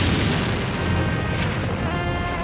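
A bomb blast from the German Blitz on London, a dense continuous rumbling roar of explosion filling the whole stretch, loud and heavy with no clear gaps.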